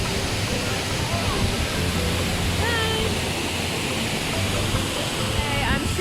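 The Jeram Enggang waterfall in Jelebu, Negeri Sembilan, gives a steady rushing roar of falling water. Faint voices and chirps sit under it.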